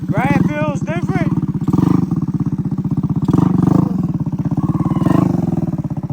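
Vehicle engine with a freshly swapped motor, revving hard under throttle, a loud, close, rough roar with rising and falling pitch throughout, while people talk over it.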